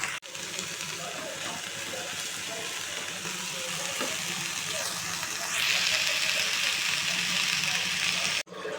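Fenugreek leaves (menthi kura) frying in a pan give a steady close sizzle throughout, growing brighter and hissier near the end, with faint clinks as they are stirred.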